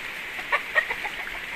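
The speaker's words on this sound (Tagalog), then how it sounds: "Ito yung mga manok nilang" A couple of short, soft clucks from chickens nearby, set against a steady hiss of background noise.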